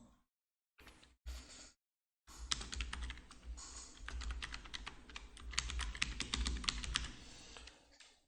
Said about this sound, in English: We can type this down.